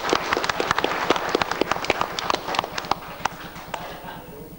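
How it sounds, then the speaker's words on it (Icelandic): Brisk applause at a 1984 Rotary club meeting in Borgarnes, a small group clapping in quick uneven bursts that thin out toward the end, with a voice faintly underneath. "Við skulum klappa fyrir honum þó hann sé ekki hérna."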